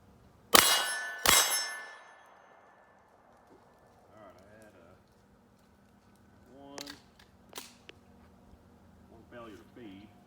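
Two sharp suppressed 10mm shots from a threaded Rock Island Tac Ultra pistol, each followed by a ringing clang off steel targets, about a second apart. Quieter handling noises and brief voices come afterward.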